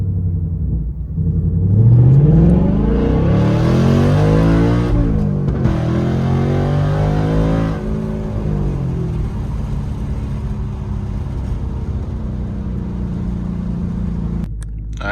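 A car engine revs up loudly with a low droning rumble, then settles into a steady hum with rushing air noise.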